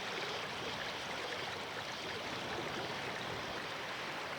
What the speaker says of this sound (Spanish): Lo que vemos y escuchamos es el paso de aguas servidas de los alcantarillados al mar.